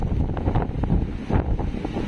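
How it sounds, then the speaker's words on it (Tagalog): Strong wind buffets the microphone in heavy gusts while big surf crashes close by on the shore at Dinahican, Infanta, Quezon during Super Typhoon Pepito, a dense roaring wash with no break. "Ay no, grabe, taas ang mga alon."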